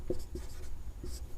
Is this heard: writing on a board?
yes